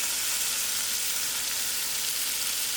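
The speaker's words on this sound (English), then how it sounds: "I am going to throw in my tomatoes." Tomatoes fry in masala for brinjal chutney, giving a loud, dense, continuous sizzling hiss up close with no voices.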